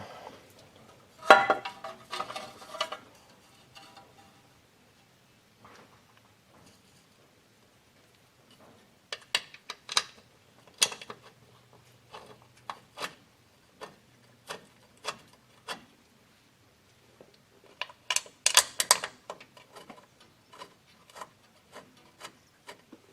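Bolts are handled and threaded into a freshly sealed differential cover on a flatbed truck, making faint, scattered metallic clicks and ticks with long quiet gaps in between.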